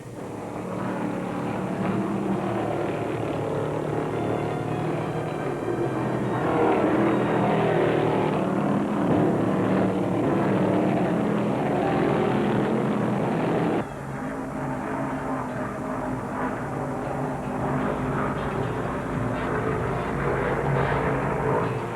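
NASCAR stock cars race at Ontario Motor Speedway, a sustained loud engine roar that swells and shifts pitch as cars pass, dipping slightly partway through, with no voices.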